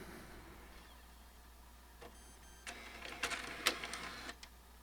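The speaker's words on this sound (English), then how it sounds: "it's going to still generate the same disk drive noise as the prior PS5 Slim" PS5 Pro disc drive ejecting a disc, a quiet mechanical whir and clicking motor buzz that rises after a faint click, then a few sharper ticks in a hushed room.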